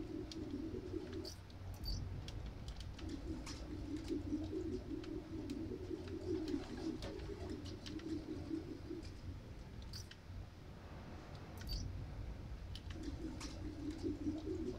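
Pigeons cooing in a city park in the video game Spider-Man: Miles Morales, low repeated coos in several bursts over a soft ambient background with occasional chirps.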